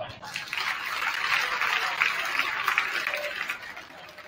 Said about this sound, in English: Please give our officials one more round of applause.